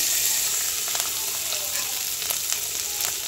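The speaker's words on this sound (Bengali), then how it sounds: "এবার আমি ওই যে নুন হলুদ মাখানো চিংড়ি মাছগুলো সব ঢেলে দেব, সবগুলো ভেজে নেবো একসঙ্গে" Shrimp coated in salt and turmeric fry in smoking hot oil with a bright, dense hiss dotted with small crackling pops, steady and close, with no voices.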